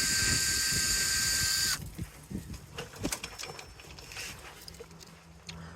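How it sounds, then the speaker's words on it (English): A loud, steady power-tool whine runs for almost two seconds while unscrewing a Toyota Corolla door panel, then cuts off, leaving quieter clicks, clatter and handling noises. "It's easier if you're using a power tool."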